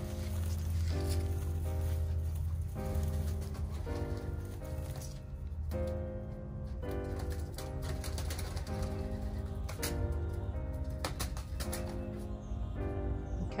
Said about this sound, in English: these are our homing pigeons